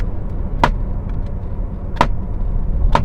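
Three sharp knocks on hard plastic interior trim inside a 2023 Mercedes SL 63 AMG, each a short dry tap, spaced unevenly over a quiet low cabin hum.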